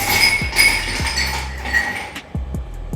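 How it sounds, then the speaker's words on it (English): Ice cubes dropped one after another into an old-fashioned glass, several close, sharp clinks and knocks with ringing glassy overtones, separated by brief gaps. "we'll take an old-fashioned glass and fill it up with ice cubes."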